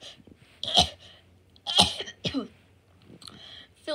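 A few sharp, explosive coughs in short bursts, close and fairly loud, separated by quiet pauses.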